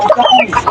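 A hen and rooster cluck close by in a quick run of short, throaty notes, loud and clear with no talk.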